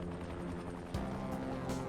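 A helicopter arrives in the zombie game Dying Light, its steady thudding rotor and engine drone loud and continuous, with a brief swooping shift midway and no talk over it.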